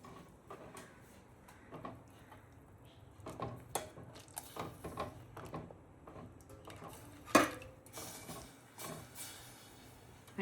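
Metal utensils clink and scrape against a pot as puris are lifted out of warm sugar syrup, with scattered light knocks, a sharp clatter near the end, and quiet pauses in between.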